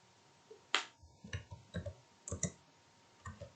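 A computer mouse gives a series of sharp, close clicks, about a dozen in irregular succession, some doubled, against a quiet background.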